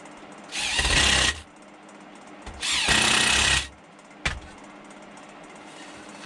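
A power drill drives screws to tighten a lathe faceplate for wood turning, with two near, loud whirring bursts of about a second each and a short final blip.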